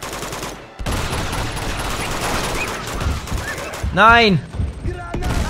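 Bursts of rapid gunfire crackle through a shootout in Uncharted 2, loud and close, with someone shouting over the shots.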